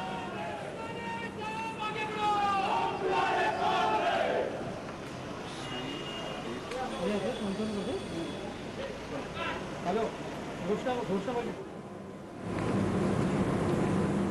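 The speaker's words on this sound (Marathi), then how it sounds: "कोकणामधला राणे समर्थकांचा हा जल्लोष" A crowd of Rane supporters in Konkan celebrates with loud, continuous cheering and shouting, with voices clamoring together and surging throughout.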